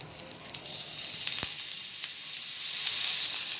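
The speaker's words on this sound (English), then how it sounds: "Now I am heating some little oil in this pan, and once the oil is heated, I'll be adding the grated potatoes and fry it a bit" Grated potatoes fry in hot oil in a pan, a dense hissing sizzle that swells louder toward the end, with a few faint pops and taps; nobody speaks.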